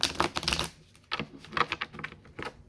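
A tarot card deck is shuffled by hand up close, giving dry riffling, flicking bursts in irregular clusters with brief pauses between them.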